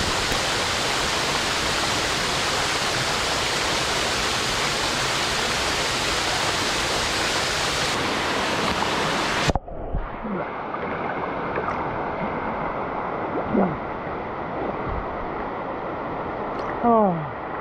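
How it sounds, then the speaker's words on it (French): A waterfall in Thailand roars loudly and continuously up close, then the scene cuts abruptly to a much softer wash of flowing water with occasional faint knocks. "on terminera la journée sur cette cascade là"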